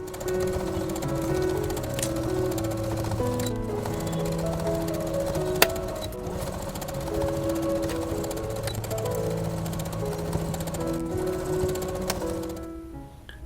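A sewing machine runs steadily as it stitches a denim hobo bag made from upcycled jeans, its continuous whirring motor hum and rapid needle clatter holding for most of the stretch before stopping near the end.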